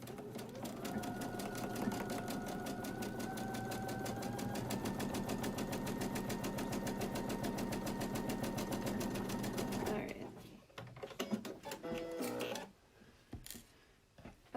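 A sewing machine stitches the side seam of a fabric face mask in one continuous, even mechanical whir for about ten seconds, then stops, followed by light handling noises of the fabric.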